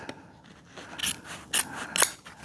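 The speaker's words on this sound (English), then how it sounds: "Trim off this" Scissors trim upholstery fabric on an antique dining chair, three or four quick, crisp snips close by with fabric rustling between them and no talking.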